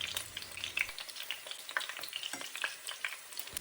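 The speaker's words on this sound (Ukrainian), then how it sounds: "Смажити оладки треба біля трьох хвилин з однієї сторони і так само з другої." Artichoke fritters fry steadily in a pan, giving a dense, continuous sizzle with crackling pops throughout, close and alone without any talk.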